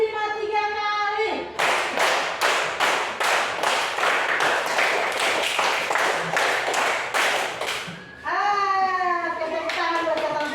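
A school class claps together in a counted rhythm, about fifteen sharp, evenly spaced claps in a row. Children's voices chant just before and just after the clapping.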